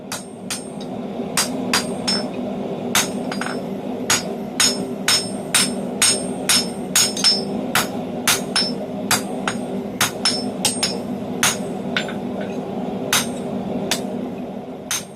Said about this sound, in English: I'm thinning out the front end much more than the back end, and I'm accomplishing that by angling my hammer